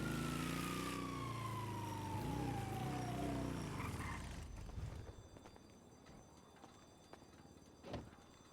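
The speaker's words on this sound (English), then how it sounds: "Oh, I hear sirens." A wailing siren in the video game NoPixel 4.0 sweeps downward in pitch under a loud, dense rumble, then fades out, leaving quieter scattered clatter and a sharp thump.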